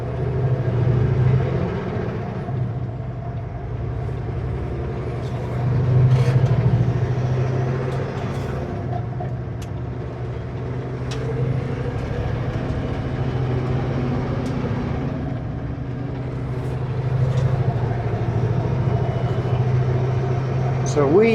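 A Super B truck engine in gear rolls downhill at night toward Osoyoos, giving a steady low drone with slow swells in loudness and faint rattles, under a voice talking.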